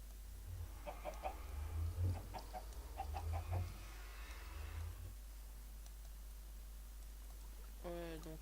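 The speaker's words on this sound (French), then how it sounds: "faut que je m'occupe aussi des poules là" Chickens in Minecraft cluck in short, faint bursts over a low steady hum, with a brief sharper call near the end.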